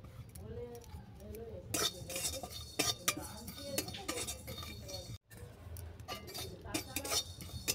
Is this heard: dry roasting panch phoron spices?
yes